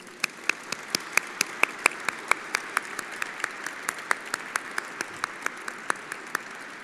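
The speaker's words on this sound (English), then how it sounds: "please join us in a round of applause for all of our distinguished guests" Applause for distinguished guests at an Air Force Test Center change of command ceremony, with a soft crowd wash under sharp, evenly spaced claps in a steady rhythm that continues to the end.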